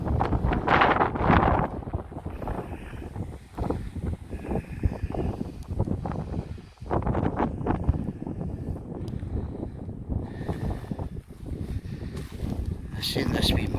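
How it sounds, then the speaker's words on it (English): Gusty wind on an exposed wild camp on Schiehallion in Scotland buffets the microphone with a continuous rough rumble, while someone talks over it throughout. "Just wish it was less windy."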